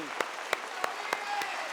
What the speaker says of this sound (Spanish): Póngase de pie y apláudele al Señor.